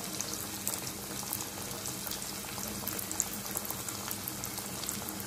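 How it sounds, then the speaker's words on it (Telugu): Corn masala vadas fry in hot oil, giving a steady, dense crackle and bubbling that runs the whole way through at close range, with no talk over it. "మనం నూనెలో వేసుకోవడమండి జాగ్రత్తగా మొక్కజొన్న మసాలా వడలు చాలా బాగుంటాయండి"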